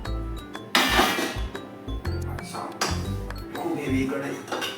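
Metal and glass clinks as Maggi noodles are served from a heavy kadhai into a plate: scattered sharp chinks and scrapes, close and fairly loud, with voices talking in between.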